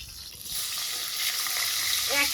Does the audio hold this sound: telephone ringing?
no